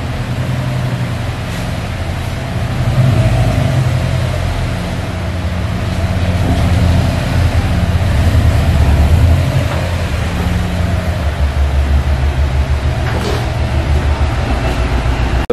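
A stock Subaru STI with a cat-back exhaust runs on a dyno in a shop, a steady loud low engine drone that swells and eases across the whole stretch with no talk.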